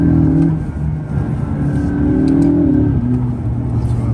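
A supercar engine drones and revs while driving, a loud, close, continuous low roar with rising and falling pitch as it accelerates.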